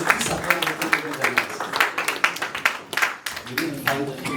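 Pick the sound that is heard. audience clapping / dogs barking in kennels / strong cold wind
audience clapping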